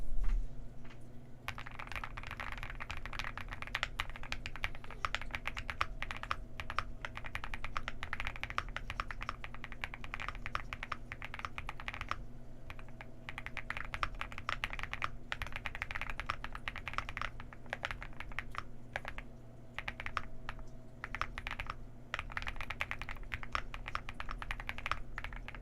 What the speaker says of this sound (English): I just really want you guys to hear this keyboard.